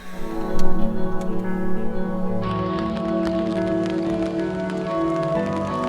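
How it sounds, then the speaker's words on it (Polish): Light rain falls outdoors at an open-air village museum, a steady soft patter with scattered drip ticks under a continuous wash of noise, with no talking. "Trochę kropi."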